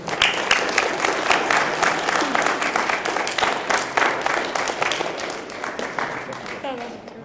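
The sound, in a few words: audience applause at a spelling bee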